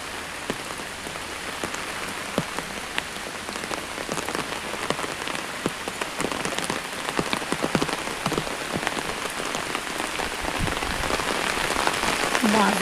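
Rain falls steadily over a village, a close, continuous hiss with scattered louder drop taps that grow a little denser toward the end and a faint voice in the background.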